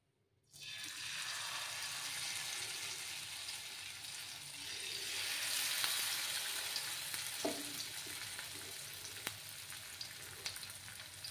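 Curry leaf pakoras fry in hot oil with a loud, continuous sizzle that starts abruptly and swells slightly midway, with occasional clinks of a utensil.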